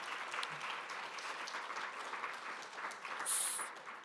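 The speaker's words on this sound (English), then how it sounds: "So if we could get a round of applause for them," A conference audience at a patient empowerment summit breaks into sustained applause, a dense, even wash of many hands clapping at moderate distance throughout, with a brief brighter swell near the end and no speech.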